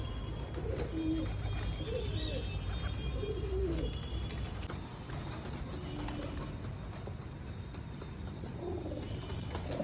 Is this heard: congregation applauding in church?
no